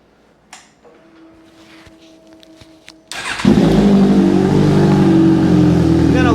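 A 2022 Suzuki GSX-S1000 GT motorcycle fires up on a dyno after a few quiet clicks and a faint hum, then its engine settles into a loud, steady, close idle-to-rev drone.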